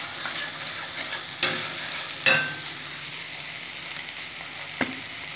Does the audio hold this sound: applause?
no